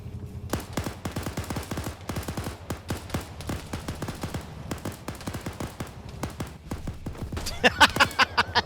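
Dense automatic gunfire from an Arma 3 firefight, rapid repeated shots in steady bursts throughout, loud and close, with a brief flurry of sharper, brighter cracks near the end.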